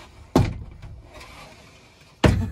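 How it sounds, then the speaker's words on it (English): A pocket door in the bathroom of a Heartland 2020 Cyclone 4007 fifth-wheel RV, heard as two distinct knocks about two seconds apart, one as it moves and one as it stops, close by with a quiet room hush between them. "This one is a pocket door."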